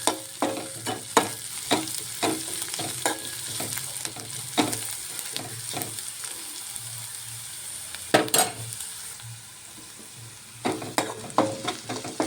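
Ginger frying in a pan gives a continuous crackling sizzle, broken by frequent sharp scrapes and clacks of a spoon stirring against the metal. The stirring comes in uneven bursts and eases briefly near the end.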